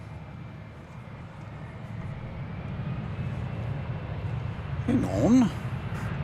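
A steady jet engine roar from an American Airlines plane in PSA heritage livery at DFW airport, a continuous low rumble building slightly, with someone briefly speaking near the end.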